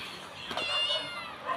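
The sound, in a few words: cat meowing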